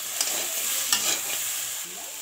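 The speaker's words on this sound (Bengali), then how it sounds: "নাড়াচাড়া করে নিলাম।" Potatoes frying in a pan with beans, stirred with a utensil that clatters and scrapes against the metal over a steady loud sizzle, heard close.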